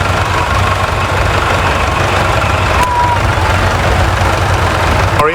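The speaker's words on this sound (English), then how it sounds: "behind the county tractors we have a small RAF truck" A small RAF military truck engine idles at an agricultural show parade, a loud, steady low rumble with a faint rhythmic knock, continuous throughout and close by.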